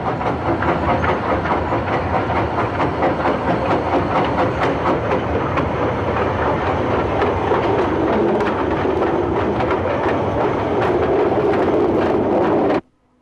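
A restored 90-year-old Swiss Federal Railways locomotive shunting wagons on factory sidings without overhead wire, heard as a steady rumbling run with rhythmic clickety-clack of wheels on rail joints, close and continuous, cutting off abruptly.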